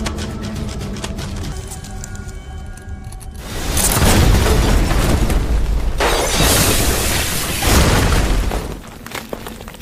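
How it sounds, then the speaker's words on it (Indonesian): A loud booming blast erupts after a tense musical passage, followed by rumbling debris and a second surge of roaring noise. "bom itu meledak"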